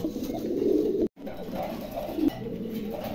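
A pair of white-topped Lahori pigeons in molt cooing in low, throaty rolling calls, close and fairly loud, with one brief dropout partway through and no talk.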